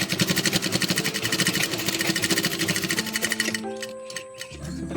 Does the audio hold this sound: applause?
no